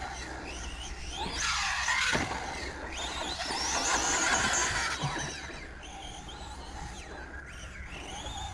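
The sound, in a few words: Proline Fusion SC RC car engine revving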